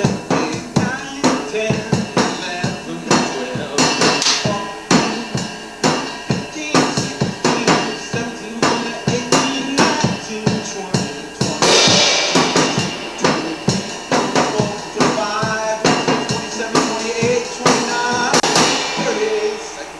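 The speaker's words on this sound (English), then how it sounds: "Next track, drums." A drum kit played in a steady beat, with dense sharp hits and crashing cymbals over a busy backing, loud and close.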